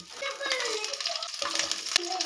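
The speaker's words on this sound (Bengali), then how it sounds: "তেলটা গরম হয়ে গেছে এবারে আমি দিয়ে দেবো কেটে রাখা ফুলকপি" Cut cauliflower sizzles and fries in hot mustard oil in a kadai for a mixed vegetable dish, a steady close crackle with stirring scrapes, while a voice talks over it.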